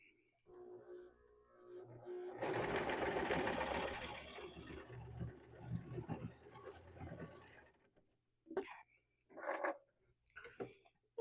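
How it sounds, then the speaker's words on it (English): A sewing machine stitches across the zipper end of a pillow cut from a repurposed quilt in one steady burst of a few seconds. Someone talks quietly before and after the run. "So we're going to go sew this."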